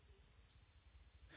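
A dishwasher that has finished its cycle gives off a steady high electronic beep, one sustained tone held for about a second, moderately loud and alone in a quiet room.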